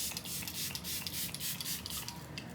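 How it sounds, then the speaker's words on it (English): Makeup setting spray hisses from a bottle in a rapid series of short, close bursts, fairly soft and with no talking. "First, we're gonna use the layer of setting spray"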